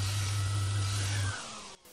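A cartoon gadget vacuums up frozen DNA with a loud, steady roaring suction hum and strong low drone that cuts off abruptly near the end, leaving a fading hiss.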